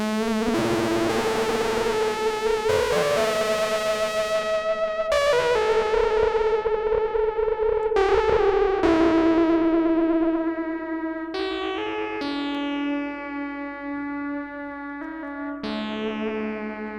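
Bright notes from a Moog Grandmother synthesizer played one after another, each ringing out with a long reverb tail that washes into the next, no voices.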